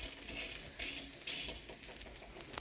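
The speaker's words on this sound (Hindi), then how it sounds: "इन्हें देसी घी में फ्राई करना है इस तरीके से देखो।" Dry fruits and pumpkin seeds frying in desi ghee in a pan, a soft steady sizzle with occasional light scrapes and stirring clinks of a utensil against the metal, fairly quiet.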